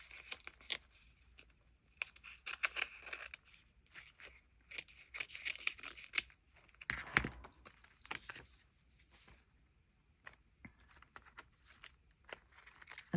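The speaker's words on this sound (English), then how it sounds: "let me cut this out to make it easier" Scissors snipping paper for a junk journal, scattered quiet crisp cuts and crinkling rustles at an irregular pace, close but faint, with no talking.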